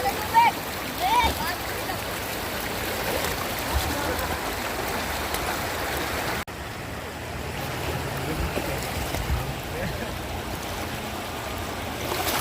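Water pours down like rain during a family outing, a continuous rushing splash close by with voices around it.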